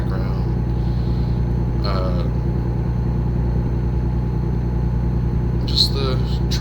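Truck engine running: a steady low rumble continues throughout, with brief higher noises on top and a voice talking over it.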